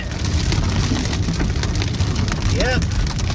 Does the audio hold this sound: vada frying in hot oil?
no